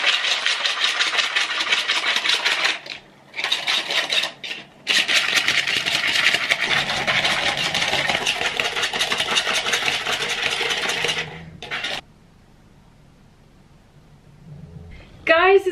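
Electric whisk whipping an iced coffee mixture, a steady buzzing whir running loud and close for most of the time, cutting out briefly twice and then stopping near the end before a short restart.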